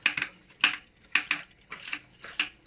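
Fish pieces tossed with lemon juice and salt in a bowl, giving close, irregular clinks and scraping rattles of a spoon against the dish, with short bursts and pauses, alone and without talk.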